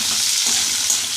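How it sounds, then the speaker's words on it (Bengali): Diced potatoes sizzle in hot oil with fried onion and green chili, a steady bright hiss with light stirring, close and continuous, without talk. "এবার আলুগুলো একটু ভাজা ভাজা করে নিই।"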